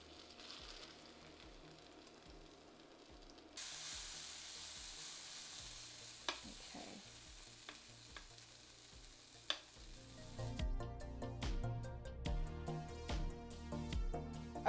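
Sweetcorn and halloumi fritters sizzle in a pan after being flipped, a quiet, steady crackle of frying with scattered clicks and taps of a utensil growing busier toward the end.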